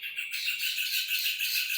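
Many small birds chirp together in a dense, continuous chorus of high tweets that is fairly loud and heard alone.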